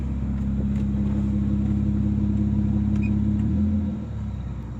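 A 1994 Lexus ES300 idles steadily with the hood open, a smooth, even engine hum with a low rumble, heard close and alone, dropping slightly in level near the end.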